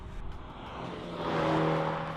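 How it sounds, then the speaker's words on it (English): BMW M135i xDrive engine with a synthesized engine note, a rising engine tone building toward the end of the short run, heard alone. "not the greatest engine note given it's synthesized"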